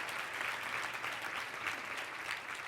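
Sustained audience applause at a women's leadership luncheon, dense steady clapping from a crowd filling the room throughout with no pauses.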